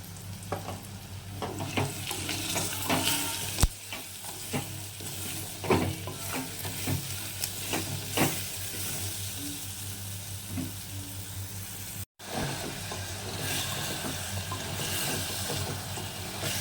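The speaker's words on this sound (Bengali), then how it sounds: "সয়াবিন আলু সব একসঙ্গে এভাবে কষিয়ে নিতে হবে" Soybean chunks and potatoes with ginger paste, salt, turmeric and roasted cumin sautéing in a pan with a little water, giving a continuous close sizzle broken by repeated scraping stirs and occasional sharp knocks of the spoon.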